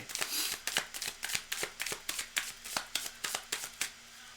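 A deck of cards is riffled and shuffled in a quick steady run of crisp rhythmic flicks, close and fairly quiet.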